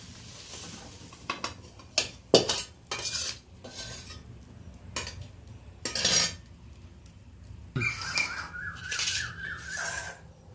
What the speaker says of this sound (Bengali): এই পর্যায়ে আমি ভাজা আলু বেগুনটা একটা প্লেটে করে ঢেলে নিচ্ছি।